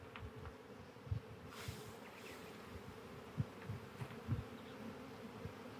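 Honey bees being shaken off hive frames at an outdoor beekeeping field day buzz as a low, continuous hum, with soft thumps and rustles as the frames are knocked.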